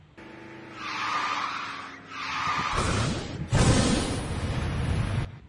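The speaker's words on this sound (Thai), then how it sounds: "กดปุ่มเลี้ยวขวาและปุ่มดริฟต์ค้างไว้เพื่อเริ่มดริฟต์" A car drifting in the video game Garena Speedrifter, with engine revving that rises and falls, then a loud sustained tire skid and squeal as the slide takes hold, close and alone.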